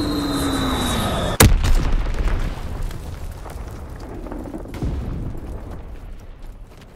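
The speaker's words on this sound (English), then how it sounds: "Dropping Azon bomb." Azon bomb dropped in a video game, landing in a single loud, sudden blast after a short falling tone, followed by a long rumbling tail that fades over several seconds.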